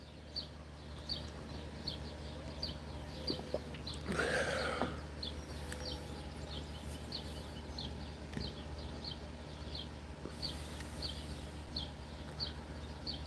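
Birds chirping in a steady, repeating pattern at a moderate distance over a low ambient hum, briefly covered by a louder rushing noise.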